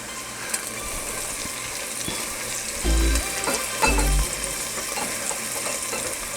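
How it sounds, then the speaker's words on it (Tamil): Mint and coriander leaves frying in oil for a vegetable brinji rice, a steady close sizzle with a couple of heavier stirring thumps midway. "இதை ஒரு நிமிஷம் வந்துட்டு நல்லா இந்த எண்ணெயில் நல்லா வதக்கிக்கோங்க"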